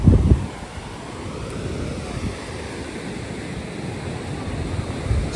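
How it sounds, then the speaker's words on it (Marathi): Ocean waves roll onto Hedvi beach in a steady, soft surf wash mixed with wind noise on the microphone, with a brief louder gust at the start. "हेदवी समुद्र किनारा."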